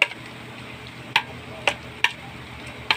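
A utensil stirs food in a pot, producing sharp metallic clinks against the side at irregular intervals, five or so distinct taps over a low background hiss.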